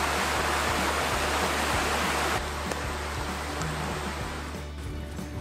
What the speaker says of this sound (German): Während die Dünn so entspannt vor sich hin plätschert